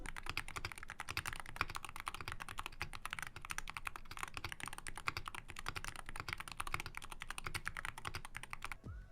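Rapid, steady keystrokes on a Polar 65 rapid trigger keyboard, a dense continuous run of sharp clicks and clacks heard close and alone, stopping just before the end.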